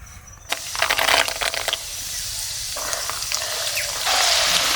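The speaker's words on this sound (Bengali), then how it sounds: "তো একইভাবে চীনাবাদামটাও ভেজে নেব।" Peanuts fry in hot oil in a pan, giving bursts of crackling sizzle that swell and settle, then a steadier bubbling hiss, close by with no talking.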